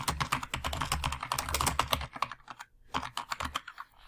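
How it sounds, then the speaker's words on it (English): Rapid, steady keystrokes clatter on a computer keyboard as a note is typed, close and alone with no talk, with one brief pause midway. "you just click in that area and you start typing a note"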